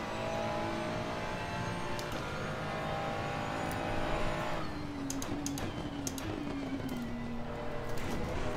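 Race car in the sim racing game Assetto Corsa Competizione drifting through a corner, a steady engine drone with a tonal tire squeal sliding downward in pitch over the second half, plus faint clicks.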